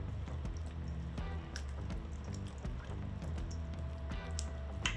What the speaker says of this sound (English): Put your egg in there. Let's give that a nice stir.